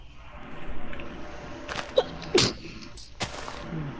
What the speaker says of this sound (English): Bless you to whoever just sneezed.